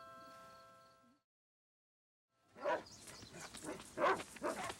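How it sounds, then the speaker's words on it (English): A dog barks outdoors in a wilderness setting, in a run of sharp, loud, fairly close barks after a short silence, with a faint tonal sound before the pause. "Confound that dog."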